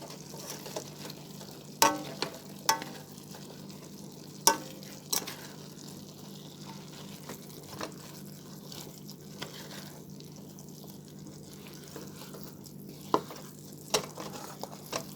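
Drained eggplant fries in a hot covered pot for curry, giving a low steady sizzle with scattered sharp clicks and pops throughout.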